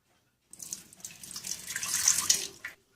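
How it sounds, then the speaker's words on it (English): Lukewarm water pours into a Hitachi HB-B301 bread maker pan, a short splashing stream that starts abruptly, grows fuller and steadier, then stops cleanly, close and alone. "I'm going to start with 3/8 of a cup of lukewarm water."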